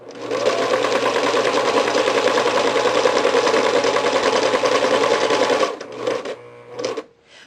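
A sewing machine runs a steady straight stitch along the elastic casing of a cloth diaper, loud and continuous for several seconds, then slows into a few short, stuttering bursts before stopping.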